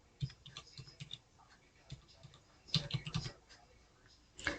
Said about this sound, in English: And let's type the same word so you can see the difference.